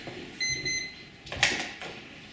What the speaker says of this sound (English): That was my timer telling me I ran out of time.